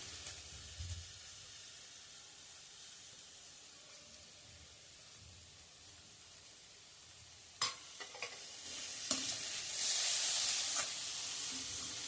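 Grated carrot and coriander sauté in a small amount of oil in a pan, giving a quiet, steady sizzle with a few sharp clinks and scrapes partway through and a brighter hiss of frying toward the end.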